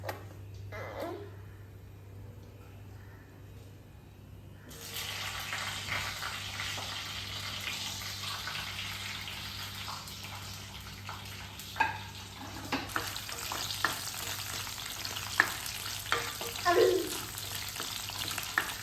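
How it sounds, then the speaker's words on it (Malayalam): Mustard seeds, fenugreek and shallots fry in hot oil in a clay pot for a homemade fish curry. A steady sizzle with scattered crackles and pops starts suddenly a few seconds in and continues close and loud to the end. "ഇതിലേക്ക് ആദ്യം എണ്ണ ഒഴിച്ചു, പിന്നെ കടുക്, ഉലുവ, ചെറിയ ഉള്ളി, പച്ചമുളക്,"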